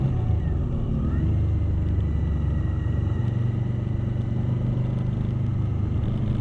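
A 2020 Suzuki V-Strom 1050XT under way, its engine giving a steady low rumble mixed with wind roar, continuous and close, heard from the rider's position while cruising at a fairly even pace.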